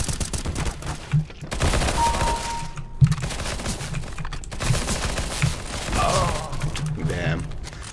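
Gunfire in Counter-Strike: Global Offensive, with scattered single shots and short bursts over the game's background sound, mixed with a person talking.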